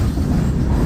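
A heavy freight train with loaded gondola cars and a single locomotive rumbles past, a steady loud low roar of rolling wheels and railcars close by, with no talking.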